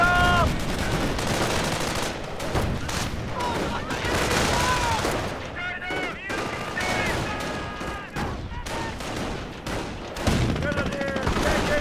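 Gunfire in a Company of Heroes battle, with dense bursts of machine-gun and rifle fire, loud and nearly continuous, plus heavier booms. Game voices and music cues are mixed in.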